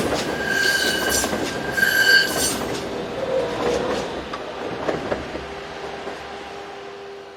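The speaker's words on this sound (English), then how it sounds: "The BLS-operated trains join and split here on their way to and from Bern" A BLS-operated train squeals through a Swiss railway junction, its wheels giving shrill, sustained high-pitched screeches over a continuous rolling rumble and occasional track clicks.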